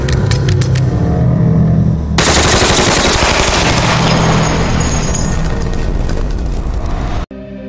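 Sustained, loud machine gun fire in a Peaky Blinders film scene, with a masked gunman firing a machine gun; dense rapid bursts run for several seconds, then cut off abruptly near the end.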